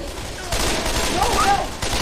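Constant loud gunfire in the zombie video game Left 4 Dead 2, a dense unbroken rattle of shots that grows heavier after the first half second, with hurried voices mixed in.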